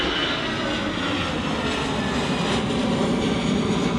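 Loud, steady roar of an EasyJet airliner's jet engines close by at Manchester Airport, a continuous broadband rumble holding level for the whole stretch with no talk over it.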